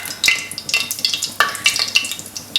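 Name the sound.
cumin seeds sizzling in hot oil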